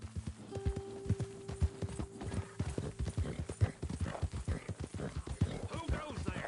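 A horse galloping in the video game Red Dead Redemption, rapid, evenly spaced hoofbeats pounding close and clear throughout, with a brief voice over them.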